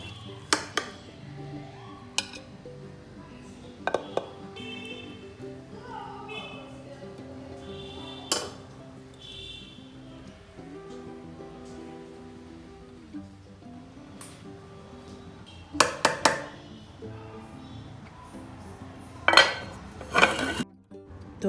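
Plates and a serving spoon clink while beef biryani is served onto plates. Scattered light clinks and scrapes ring out through quiet room tone, with a cluster of louder clanks near the end.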